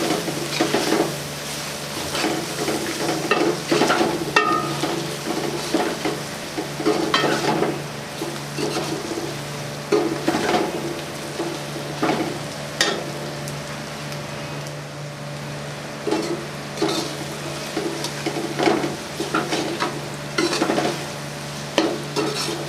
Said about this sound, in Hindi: मिक्स कर अच्छे तरीके से फ्राई करेंगे।